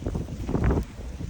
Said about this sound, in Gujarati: અને વિચાર તો કરો કેટલો પવન છે